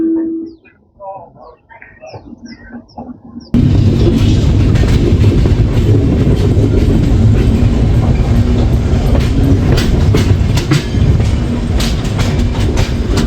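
A passenger train running between Rajkot and Surendranagar rumbles loudly and steadily after a quiet start with birdsong, its wheels clattering close by throughout with a continuous heavy roar.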